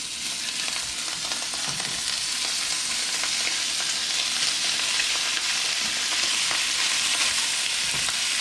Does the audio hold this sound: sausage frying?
yes